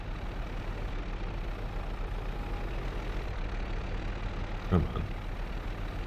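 Tractor engine running in a farming game, a low steady diesel rumble with a single soft knock near the end, while a voice speaks briefly over it.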